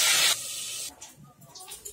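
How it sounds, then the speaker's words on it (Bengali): Eggplant slices hit hot oil in a kadai with a loud, close burst of sizzling that lasts a moment, then drops to a softer, crackling hiss. "তেলটা গরম হয়ে গেছে, বেগুনগুলো দিয়ে দিলাম।"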